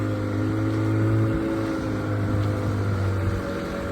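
A speedboat's motor runs steadily out on the sea, with a continuous droning hum and some wind and water wash, loud and close.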